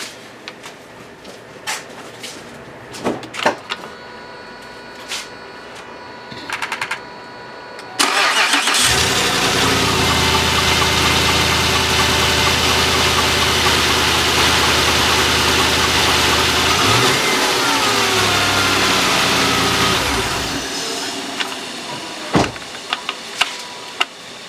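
A Volvo V8, freshly fitted with a new serpentine belt, cranks and catches, then idles steadily and loudly for about twelve seconds before shutting off, with scattered clicks and handling noises before and after.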